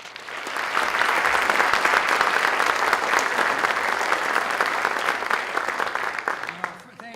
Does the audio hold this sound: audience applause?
yes